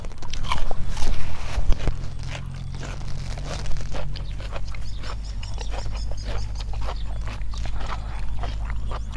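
Crispy spicy Thai squid salad being bitten and chewed close up, with loud, repeated crunches and wet chewing going on throughout and some talk mixed in.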